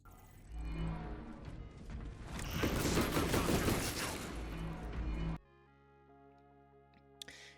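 A Techmarine's automated servo gun fires in the Space Marine video game, a dense, crackling burst of rapid shots with mechanical clatter. It swells for several seconds, then cuts off abruptly into quiet game ambience and a few faint ticks.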